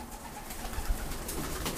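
Pigeons in a home loft give soft, low cooing pulses, close by and fairly quiet, with no voices.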